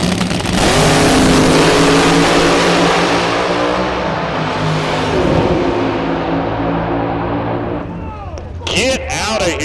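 Nostalgia drag race cars at a Boise event make a loud, sustained roar from their launch off the starting line through a run of about 259 mph, with an announcer talking over it.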